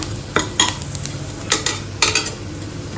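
Peanuts frying in hot oil in a pan, with a continuous crackling sizzle broken by several sharp scraping stirs of a utensil against the metal, heard close up with no talk.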